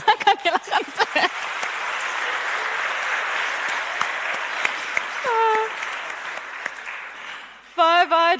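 Church congregation at a Christmas carol service clapping for the choirs, a sustained wash of applause with a speaker's voice briefly at the start and again at the end.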